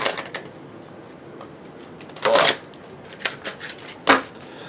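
Large oracle cards are shuffled in a few quick riffling bursts, close and crisp, separated by quieter handling rustles.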